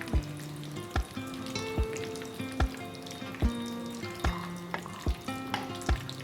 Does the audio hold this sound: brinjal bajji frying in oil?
yes